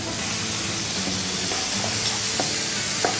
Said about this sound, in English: Stir them for around 15 seconds.